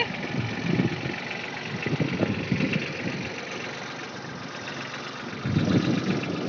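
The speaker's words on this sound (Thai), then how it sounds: "ผู้จัดการสวนขับรถไถขอดูใบหน้าหน่อย" A farm tractor engine runs steadily nearby in an eggplant farm, with a low, rumbling drone that swells slightly louder at moments, with no talking.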